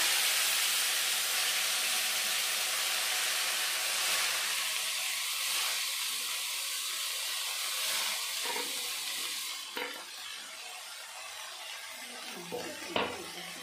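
Chopped, washed grass pea greens hit a hot pan of frying bori, raising a steady loud sizzle that settles, then a few stirring scrapes and clinks of the pan near the end.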